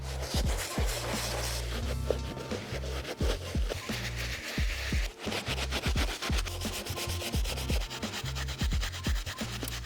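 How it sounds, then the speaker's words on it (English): A soft-bristle brush scrubs the inside of a mesh sneaker with close, rhythmic rasping strokes, repeated back-and-forth rubbing that continues steadily throughout. "I just finished scrubbing down the inside"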